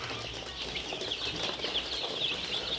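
A crowd of tiger chicken chicks at a poultry farm cheeps faintly and steadily, high peeping chatter with some rustling and no talk.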